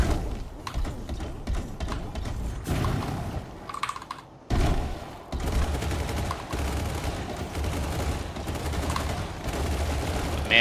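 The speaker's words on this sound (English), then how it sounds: "these twin SMGs are hard to aim" Twin SMGs fire in a video game in loud, rapid, sustained bursts that continue almost without a break, pausing only briefly midway before the shooting resumes.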